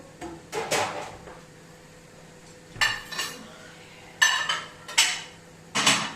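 Dishes and cutlery clatter in bursts as a home dishwasher is emptied in a kitchen, with several separate clusters of clinks and knocks spaced by quiet pauses, close by and moderately loud.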